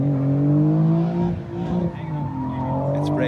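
A stock naturally aspirated Nissan 300ZX Z32 revs hard while drifting through a figure eight on bald tires, its engine note holding a strained, wavering drone that dips briefly and climbs again, with a voice calling out over it.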